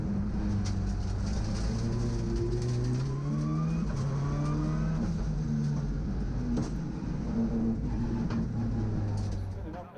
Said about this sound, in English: On board with John Marshall now as he grapples with his car